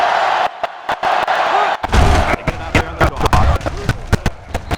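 A sellout stadium crowd roars in NCAA Football 07 during a Wisconsin at Michigan game, a loud, steady wash of cheering punctuated by sharp thuds and hits, with a commentator talking over it.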